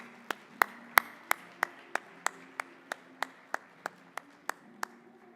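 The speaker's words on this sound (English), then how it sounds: "Let's give all of our contestants one last big round of applause." A lone pair of hands claps in a slow, evenly spaced rhythm, about fifteen crisp, distinct claps at the finals of a public speaking competition, with no crowd or talking behind it.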